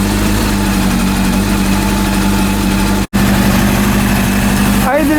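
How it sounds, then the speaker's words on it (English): A rebuilt Honda CB400 motorcycle engine idles steadily and close by, its even low-pitched rhythm running through the clip with a momentary dropout near the middle. "Idling sound."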